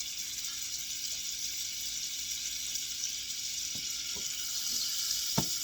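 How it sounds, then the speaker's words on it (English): A hot pan sizzles steadily after about a quarter cup of Irish grass-fed butter goes in beside beef, a continuous close hiss with a few soft pops and crackles, no voices. "our pan is good and hot, so let's go ahead and add, it's about 1/4 cup of butter"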